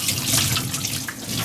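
A tap runs steadily into a sink during handwashing, a close, continuous hiss and splash of flowing water with no talking.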